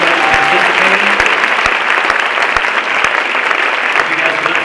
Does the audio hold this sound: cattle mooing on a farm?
no